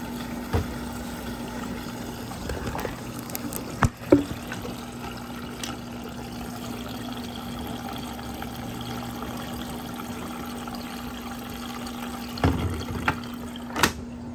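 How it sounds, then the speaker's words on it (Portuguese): Water runs steadily into the fabric softener dispenser of a laundromat washing machine, a continuous low trickle and fill with a steady hum under it and a few small knocks and clicks. "Então ela tá colocando água aqui no dispenser do amaciante."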